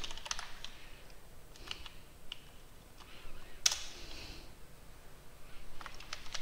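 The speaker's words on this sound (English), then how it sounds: "we will be typing in" Typing on a computer keyboard during a software installation demonstration, a sparse run of quiet clicks and key taps, faint and close, with no talk.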